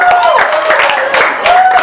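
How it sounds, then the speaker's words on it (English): A stand-up comedy cabaret audience applauds, a short, loud burst of many hands clapping close by, with whoops and a voice over the top. "Give yourselves a round of applause."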